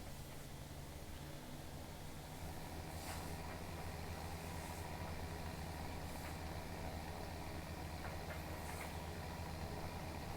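A tractor engine idles in Farming Simulator 17, a steady low mechanical drone with a continuous rumble throughout, alone without talk.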